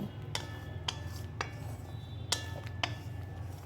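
A spoon stirring tomato chutney in a cooking pot, sending a few sharp metallic clinks against the rim at irregular intervals over a low steady simmer, with no talk.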